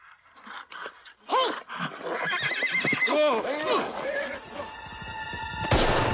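Horse neighing and whinnying during a wartime drama scene with a German officer riding through woods, several loud rising-and-falling whinnies over hoof thuds and background noise, with people talking over it.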